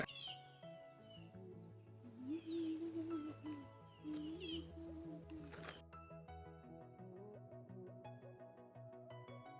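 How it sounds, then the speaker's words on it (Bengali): Birds call in an eco park in East Sikkim, with faint, varied chirps and whistles and some tonal, meow-like cries over a quiet background, distant and soft throughout. "পদম ট্রেন ইকো পার্কের শুধু পাখির আওয়াজগুলো শুনুন"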